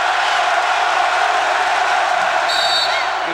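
Home fans at a Penn State basketball game against Indiana roar and cheer in a packed arena, a loud, sustained crowd din with whoops and a whistle near the end.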